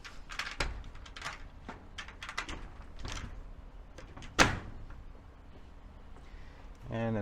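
A door on an iguana cage is opened, giving a sequence of clicks, rattles and one sharper clunk near the middle, with a rumble at the end, close by and under someone talking.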